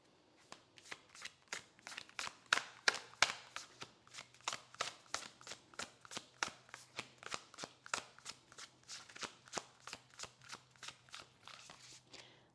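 A deck of cards being shuffled over and over, a long run of crisp riffling bursts in steady rhythm, close and fairly loud with no talking.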